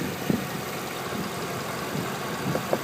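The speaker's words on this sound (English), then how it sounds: "It's a smooth running engine." A 2012 Cadillac CTS-Coupe's V8 engine idles close by, a smooth continuous rumble with faint rhythmic ticking and a few light knocks.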